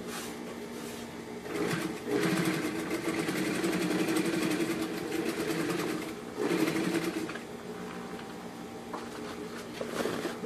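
A sewing machine with a standard metal presser foot sews pockets onto a bag, running in steady buzzing bursts of several seconds each, close and loud, with brief pauses between runs and no talking.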